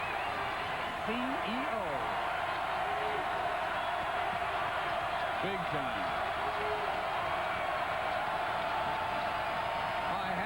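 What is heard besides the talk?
boisterous basketball crowd at Pauley Pavilion, UCLA vs Cal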